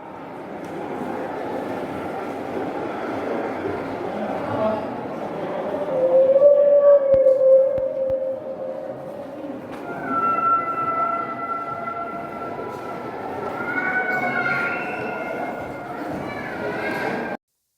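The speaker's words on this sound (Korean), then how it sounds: "들리나요? 고래 소리가." Eerie drawn-out whale calls, moans rising and falling with higher whistling tones, echo over a low rumbling background, repeating in long phrases, playing in a whale museum exhibit.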